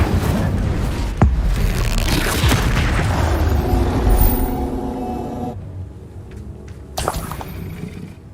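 An Incendio fire spell is cast in Hogwarts Legacy: a sharp crack, then a loud rumbling burst of fiery roar that fades out, with a second brief impact near the end.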